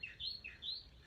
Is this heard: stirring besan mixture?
no